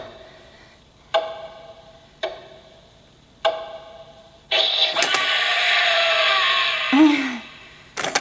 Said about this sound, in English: And what you're hearing is the clock.